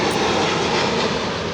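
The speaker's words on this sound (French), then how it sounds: "Ah, il y a encore un autre avion." An airplane passes overhead with a steady, broad engine roar that stays loud and continuous throughout, with no voices over it.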